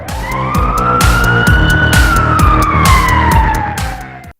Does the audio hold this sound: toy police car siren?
yes